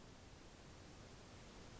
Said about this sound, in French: on entend ici qu'on a du bruit blanc